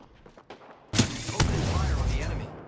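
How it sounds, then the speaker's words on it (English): Gunfire in a space combat video game: a few faint thumps, then a sudden loud burst of shots that turns into a sustained roar of fire with sweeping tonal whines, and a voice briefly speaks underneath. "I'm under fire."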